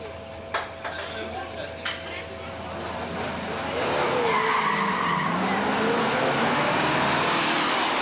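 Muscle cars, including a 1967 Camaro with a 396 and four-speed, launch off the line at a 1985 drag race at Beech Bend; engines build into a loud sustained roar with tire noise after a few sharp clanks and background voices.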